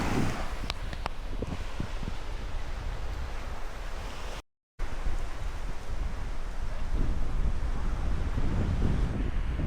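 Strong wind blows across a beach on Koh Tao island in the Gulf of Thailand, buffeting the microphone in a continuous rushing roar with surf beneath it and a brief dropout midway.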